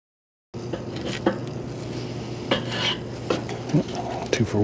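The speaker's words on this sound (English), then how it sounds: "just flip the wings over" Chicken wings being flipped on a Weber charcoal kettle grill: scraping and clinking of tongs on the metal grate, with a few sharp taps and knocks over a steady low sizzle, all close by.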